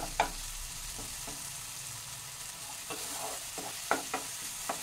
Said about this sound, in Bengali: একটু ভালো করে নেড়ে চেড়ে নিচ্ছি।